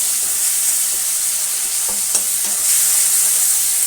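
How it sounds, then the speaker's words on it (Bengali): Garam masala stir-fried in hot oil for ghugni, a close, bright sizzle with a few scraping stirs and light clinks, continuous and fairly loud. "ভালো করে নাড়াচাড়া করে ভেজে নেবো মশলাটাকে, যাতে মশলার গন্ধ না থাকে।"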